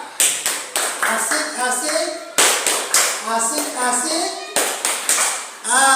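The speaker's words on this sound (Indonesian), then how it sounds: "kita beri aplaus untuk kelompok 1 dengan tepuk asik" Schoolchildren in a classroom perform a "tepuk asik" cheer, clapping in a sharp rhythmic pattern that repeats in three bursts, with children's voices chanting along between the claps.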